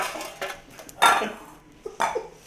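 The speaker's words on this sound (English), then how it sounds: "show you how to mix your nuts in by hand" Nuts being mixed by hand into banana bread batter in a bowl give a few close, scattered clinks and scrapes of a utensil against the bowl, separated by short quiet gaps.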